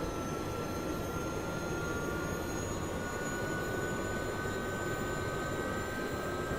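A Gazelle helicopter's rotor spinning up in the DCS flight simulator, a steady, dense engine and turbine roar with a high whine, continuous and unchanging throughout, with no talk.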